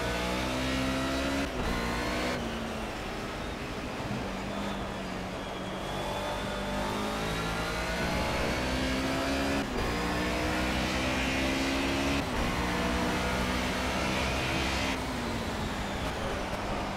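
A Mercedes 190E race car in Project CARS holds a sustained engine drone with rising and falling revs through gear changes, racing at Brno in the rain, loud and continuous for the whole stretch with no talk.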